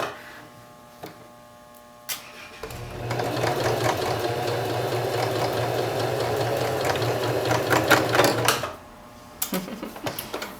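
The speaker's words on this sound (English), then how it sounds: "My ditch stitching needs a little bit of practice." A sewing machine stitches in the ditch along a plain seam with a bound edge, a steady close whirring run of about six seconds after a few light clicks, then stopping.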